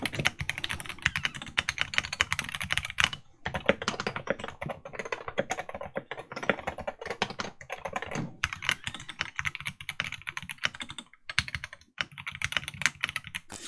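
Fast, continuous typing on a modded Wooting 60HE keyboard fitted with Alpaca switches, a dense, steady stream of close, crisp keystrokes with a few brief pauses.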